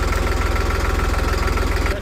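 A New Holland 3630 Special Edition tractor engine idles steadily nearby with a close, even low chug and constant vibration, no talk over it.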